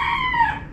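A chicken gives one short, loud crowing call nearby, a brief burst of bright, strained tone.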